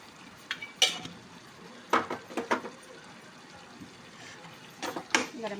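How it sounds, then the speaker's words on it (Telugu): A spoon scrapes and clinks against a pan while garam masala is stirred into chicken liver curry, in several short bursts with faint sizzling between them. "మసాలా వేసుకొని కలుపుకుందాం"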